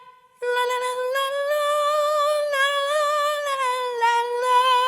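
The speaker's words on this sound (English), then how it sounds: "So here is the female singer." A virtual female singer from a vocal sample library sings a wordless, sustained melodic line with clear harmonics and gentle pitch glides, starting after a brief quiet moment and continuing loud and steady with small phrase breaks.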